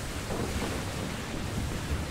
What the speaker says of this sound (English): The thing's still spinning. I put down another cyclone.